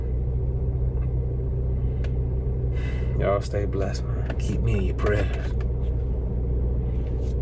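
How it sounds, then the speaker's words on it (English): A low, steady car engine idle hums throughout as the car warms up, with someone speaking briefly over it in the middle. "Let my car warm up"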